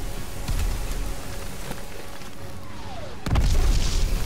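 Bombing explosions in the World War II shooter game Call of Duty: WWII, with a booming blast around the midpoint and a heavier, louder explosion near the end over a constant rumbling, rain-like wash of battle noise.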